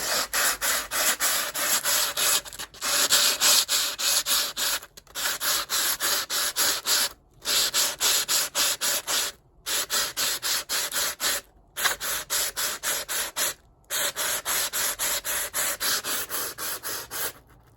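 Rapid back-and-forth rasping of 100-grit sandpaper on the edges of a wooden goblet held and spun by hand comes in bursts of steady strokes separated by short pauses, close and fairly loud.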